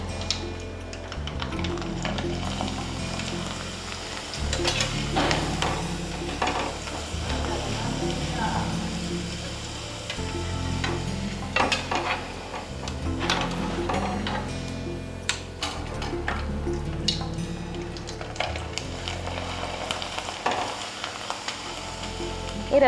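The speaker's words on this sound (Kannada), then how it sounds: "ಈ ರವೆ ಸಂಡಿಗೆ ಕರ್ದಾಗಿದೆ." Rava sandige fries in hot oil, a steady crackling sizzle broken by scraping and stirring taps of a utensil against the pan, close up, with someone speaking at times over it.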